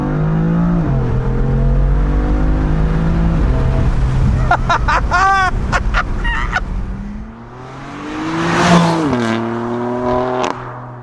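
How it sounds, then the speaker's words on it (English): Hard acceleration in second gear from a BMW F82 M4, its engine tone climbing in rising sweeps and dropping at shifts, loud and close, with a brief burst of other sound midway. "pop it into M2 mode, I will go ahead and drop it down into 2nd gear here, and if I put my foot down"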